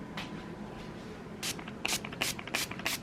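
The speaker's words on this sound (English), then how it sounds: "You just spray it on the wrinkles and it unwrinkles it." Several short hissing bursts of wrinkle release spray misted onto wrinkled fabric, coming in a quick irregular series of puffs, fairly close and clear over a low room background.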